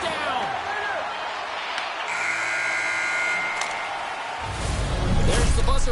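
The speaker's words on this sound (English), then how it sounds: "There's the buzzer bringing the second period to an end." A period-ending buzzer sounds in an EA Sports hockey video game: a loud, sustained electronic tone lasting over a second, set against constant arena crowd noise that swells again afterward.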